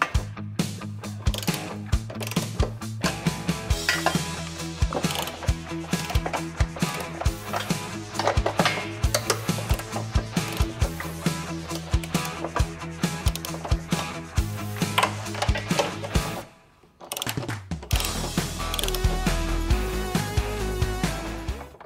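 Ratchet wrench removing hitch bolts under a Tesla Model Y during an EcoHitch install: rapid, close metallic clicking that runs almost continuously, with one brief pause before it resumes.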